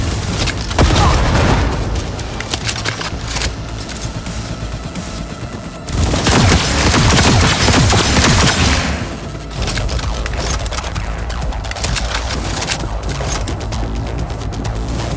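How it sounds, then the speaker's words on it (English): Heavy, sustained gunfire roars through a Cyberpunk 2077 firefight, dense volleys and booming impacts swelling in louder waves, close and overwhelming, with no speech. "Keep firing, goddammit! Kill or be killed!"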